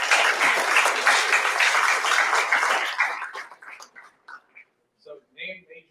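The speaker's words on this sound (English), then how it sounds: "Can we get a round of applause for the mentors?" An audience applauds the mentors at a presentation night, a dense burst of clapping for about three seconds that thins into a few scattered claps and brief voices.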